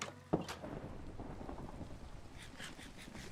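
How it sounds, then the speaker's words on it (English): Thunder in a video game: one sharp crack at the start, then a low rolling rumble under soft rain, heard faintly in the distance with no voices. "It's thunder."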